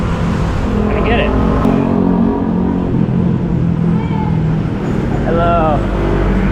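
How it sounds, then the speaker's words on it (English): Busy street traffic in the Philippines with loud jeepneys and motorbikes: a steady, close roar of passing engines with a few short, high tonal squeals rising above it. "It's so noisy on the street with all the traffic moving, especially the loud jeepneys and the loud motorbikes"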